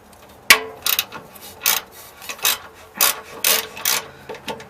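A socket ratchet clicks in short repeated bursts while loosening a broken brake line on a 1971 IH Blue Bird bus, close and fairly loud, with a sharp clank at the start.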